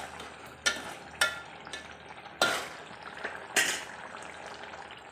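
Green chickpeas cooking in a pan on a gas flame, a faint low sizzle broken by a few sharp scraping stirs spaced about a second apart, quiet and close with no talking.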